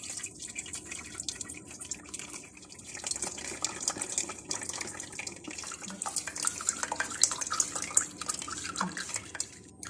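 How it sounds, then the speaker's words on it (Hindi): Blended boiled tomatoes being strained through a sieve into a saucepan, a steady wet trickling and dripping with soft splashes throughout, close and without speech. "जिस सॉस पैन में टमाटर को अभी हमने बॉईल किया था उसी के ऊपर ये हम छन्नी रखकर बॉईल किए हुए ये सारे टमाटर ये अच्छी तरह से इसको छान लेंगे"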